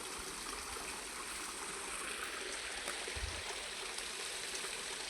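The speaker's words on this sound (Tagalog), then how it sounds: "umaagos ang tubig" River water flows steadily in a continuous soft rushing wash, with no voices over it and a brief low thump near the end.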